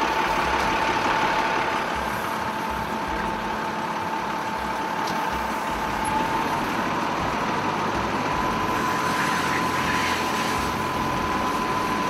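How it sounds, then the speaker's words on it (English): A fire engine rumbles steadily nearby as it maneuvers down a narrow alley, a continuous low drone with a faint whine on top and no breaks. "The engineer maneuvers the engine down the narrow alley."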